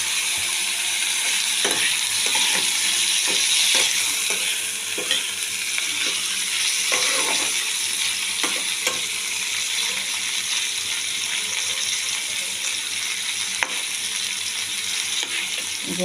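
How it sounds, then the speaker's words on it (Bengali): Drumstick (moringa) stems frying in oil in a pan with mustard, a steady loud sizzle with occasional clinks and scrapes of stirring, close and continuous with no talking. "দেখুন ডাঁটাটা দিয়ে একটু ভেজে নেব"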